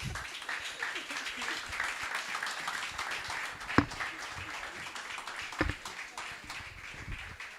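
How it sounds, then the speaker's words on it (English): Guests at a book launch event give a steady, moderately loud round of applause throughout, with scattered sharper claps standing out and some voices underneath. "Another warm round of applause"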